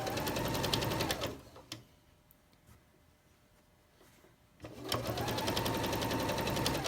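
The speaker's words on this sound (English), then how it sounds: "I'm going to line these up, and I'm going to just sew." A sewing machine stitches quilt strips with a 1/4 inch foot, running in a fast, even whir, pausing for a few seconds of quiet fabric handling, then starting again just as loudly.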